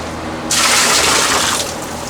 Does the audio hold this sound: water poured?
yes